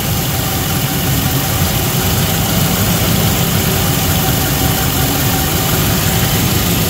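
A Land Rover Discovery engine idles steadily with a dry, rapid ticking knock from the valve gear, a loud, constant close-up rumble with no talk.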